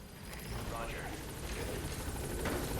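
A helicopter from the game Metal Gear Solid V: The Phantom Pain, a steady, loud rotor and engine roar that holds throughout, with game sounds mixed in.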